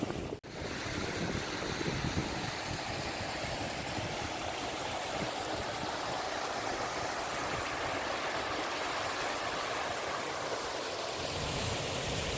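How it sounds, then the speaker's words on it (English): A small waterfall on Dartmoor near Fur Tor, a steady, broad rushing of falling water close by and unbroken throughout, with light wind buffeting the microphone and a brief knock at the start. "There's a lovely little waterfall behind me, which you can probably hear."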